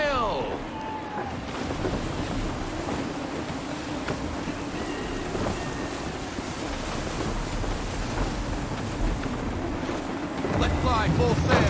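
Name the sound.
gusty wind at sea from Assassin's Creed III video game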